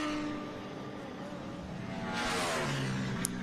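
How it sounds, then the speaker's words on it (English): A Porsche GT3 Cup race car runs at Virginia International Raceway, its engine droning at a distance and then swelling louder as it draws nearer and accelerates, with rising engine tones before a brief sharp click. "John Liam Gray in that Porsche GT3 Cup"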